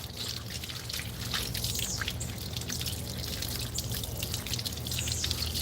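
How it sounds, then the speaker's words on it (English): Bodi beans, a long green bean, being rinsed under a running kitchen tap for a Trinidadian dish: a steady, continuous splash and trickle of water that stays close and fairly loud throughout, with no voices. "Just gonna give it a little rinse off."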